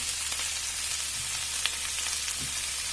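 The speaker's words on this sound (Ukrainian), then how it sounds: "Смажемо капусточку на невеликому вогні з додаванням олійки." Cabbage frying in oil on low heat, a steady close sizzle with faint crackles and a few soft stirring knocks, no voices.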